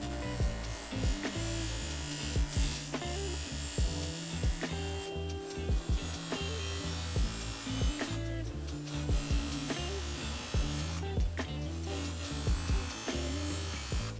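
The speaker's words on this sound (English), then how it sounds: "we're going to bust out the bench grinder. We've got a rough cleaning wheel from Prime" A bench grinder fitted with a coarse cleaning wheel strips old paint from a dirt bike part during an RM250 rebuild, giving a steady motor buzz broken by repeated harsh scraping bursts as the part is pressed on and lifted off.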